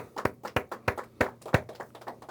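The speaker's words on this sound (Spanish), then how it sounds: "Un aplauso para el Eterno, entonces, por favor" In a Spanish-language church service, the congregation claps in a rhythmic, evenly paced beat of distinct, moderately loud claps that continues steadily without speech.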